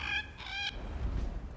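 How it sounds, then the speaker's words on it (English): Card sound effect for the Wily Bird in the video game The Elder Scrolls: Legends, a short squawking bird call in two quick bursts followed by a low rumble, with no talking. "That is not a Cliff Racer. That is a Wily Bird instead, but they do share a very similar sound effect."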